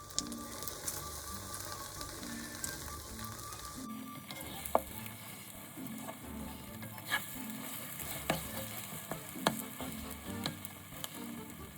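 Beaten eggs fry in a pan over high heat while being stirred, making a continuous soft sizzle broken by small scraping ticks and taps, fairly quiet and close.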